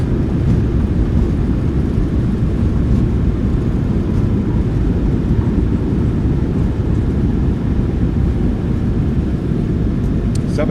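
Thrust reversers roaring on a PMDG 737-800 in a flight simulator during landing rollout, a steady dense low rumble with wind-like noise holding constant throughout.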